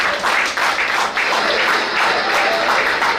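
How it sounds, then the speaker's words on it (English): Steady applause from a crowd at an outdoor political movement gathering in Delta State, dense and continuous throughout with a faint voice or cheer surfacing briefly near the end. "Please, a round of applause for me."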